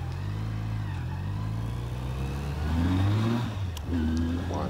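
A 2019 Jonway YY350-9a motorcycle pulls hard from a standstill toward 60 mph, its engine note climbing steadily through the gears with a brief dip at a shift, loud and continuous with road and wind noise underneath.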